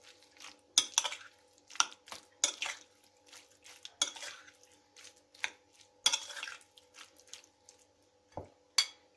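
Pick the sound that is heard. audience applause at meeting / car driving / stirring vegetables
stirring vegetables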